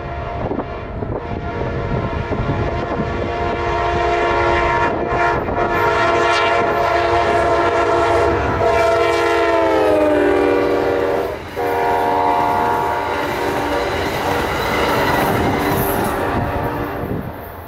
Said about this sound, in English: P089, the southbound Palmetto, with some great horn action.